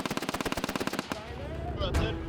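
A CV90 armoured vehicle's 7.62mm coaxial machine gun fires one rapid, even burst of about twenty loud, close shots, then stops, leaving a ringing echo and a lower rumble.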